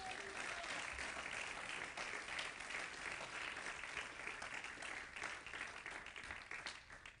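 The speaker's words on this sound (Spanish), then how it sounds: "denle ese aplauso al Señor." A church congregation at a Spanish-language worship service applauds steadily throughout, a dense, even wash of clapping that barely rises or falls, with faint voices mixed in.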